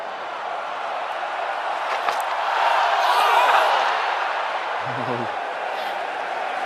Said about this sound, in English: With incredible atmosphere here now. Not a full crowd by any means, but a lot of noise.